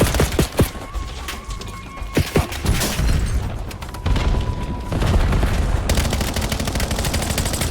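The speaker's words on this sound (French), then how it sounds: "Le mec qui me tire dessus de loin là." Sustained gunfire from the Call of Duty Black Ops 7 campaign, with rapid automatic bursts, single sharp shots and booming impacts clustering into a dense, continuous fusillade with no speech over it.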